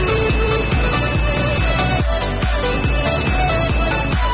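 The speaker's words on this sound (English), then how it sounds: "there will be a beep sound." An ANENG SZ305 digital multimeter sounds its continuity buzzer, a bright electronic tone heard in a string of quick repeated pulses with a steady rhythm, loud and close throughout.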